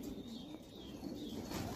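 Domestic pigeons coo steadily in a loft, a low throaty murmur running continuously with no talk.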